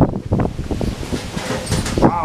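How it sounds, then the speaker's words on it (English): Gusty wind buffets the microphone in low rumbling bursts, with a voice speaking underneath. "It's really windy out here."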